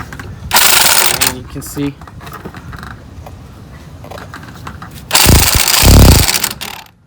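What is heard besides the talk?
impact wrench pulling in a wheel stud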